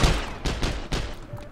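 Gunfire in the video game Heroes and Generals, a rapid fusillade of shots in several bursts, loud and close, with no talk over it.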